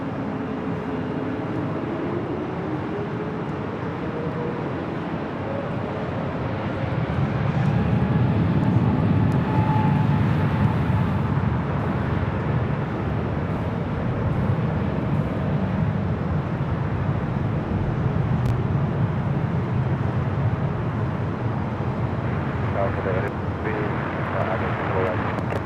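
An airliner takes off from runway 24 left at Los Angeles LAX, its engine roar a steady, distant rumble that swells midway and holds, with air traffic control radio voices talking over it.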